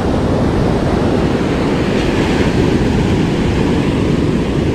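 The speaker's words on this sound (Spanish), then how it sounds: "qué fuerte está el oleaje aquí" Strong ocean surf pounds a shoreline at a fishing spot, a loud continuous roar of breaking waves with gusty wind buffeting the microphone, no voices.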